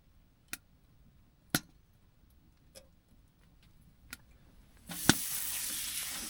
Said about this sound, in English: I'm gonna get the pan all heated up and we'll start making the bread